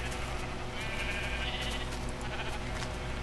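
Sheep bleating in a video game farm, heard as a continuous dense layer of game sound, with a bleat-like wavering tone mid-clip, steady and fairly loud throughout.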